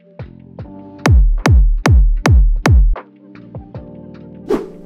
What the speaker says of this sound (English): So I started off with this normal kick that I created in Kick 2 a few months back